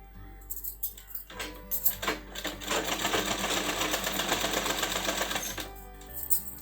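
Sewing machine stitching a sleeve onto a ready-made kurti, first short stop-start bursts of clicking, then a sustained rapid whirring run before it slows and halts, close and alone.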